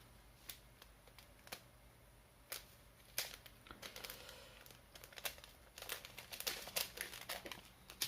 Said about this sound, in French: on va rajouter un petit bout de scotch